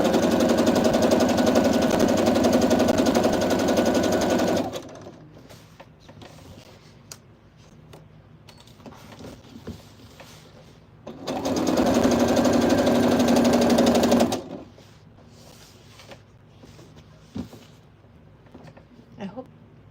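A sewing machine stitches a French seam in two long bursts of fast, rhythmic whirring, separated by quieter stretches of fabric handling and small clicks.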